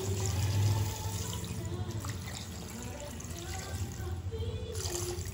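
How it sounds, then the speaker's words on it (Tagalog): Water poured from a tap or container into a cooking pot for Filipino mussel soup (tinolang tahong) with chili leaves, a continuous splashing trickle at moderate level with faint background sounds. "Tapos, lagyan na natin itong tubig."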